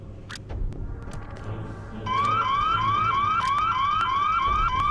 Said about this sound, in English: Once you pull the fire alarm,